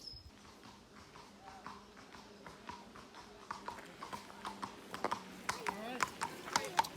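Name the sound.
horse hooves clip-clopping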